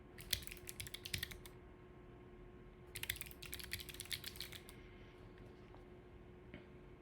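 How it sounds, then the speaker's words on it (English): Quiet bursts of typing on a computer keyboard, two clusters of rapid key clicks separated by pauses, close but soft, with a few isolated taps. "Haven't typed with this keyboard for like a week and a half."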